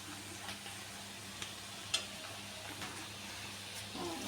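Turmeric and chili powder fry in a pan with soft, steady sizzling under several faint scraping stirs, quiet and close, with no voices.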